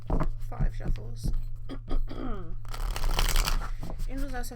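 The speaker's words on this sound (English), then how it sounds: "Five shuffles." Tarot cards are shuffled by hand, with rapid riffling and crisp rustles and a few soft pauses, heard close up under a person talking.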